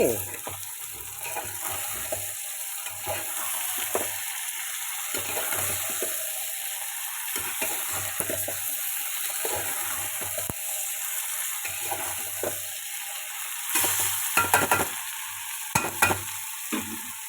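Flat beans sizzle and fry in a pan as a spoon stirs them, giving a steady hiss with intermittent scraping and clinks, then a louder clatter near the end.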